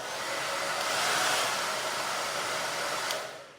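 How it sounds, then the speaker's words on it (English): A hair dryer blows steadily for about three seconds, heating a sensor from a distance, a loud even broadband whoosh that cuts off near the end. "So I'm gonna use the hair dryer again and heat this up from a distance."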